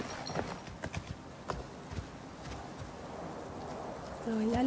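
A horse in the video game Icarus walks to drink, its hooves giving soft, uneven clip-clops over a quiet ambient bed, with a faint tonal sound rising near the end.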